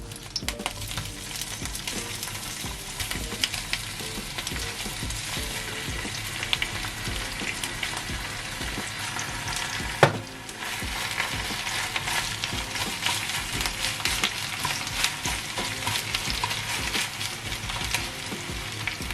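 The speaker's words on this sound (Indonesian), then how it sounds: "Sekarang minyaknya udah panas, kita masukin si seitan yang tadi udah kita goreng." Pieces of seitan sizzle and crackle steadily in hot coconut oil during an Indonesian-style stir fry, a dense close-up frying hiss with a single sharp utensil clink partway through.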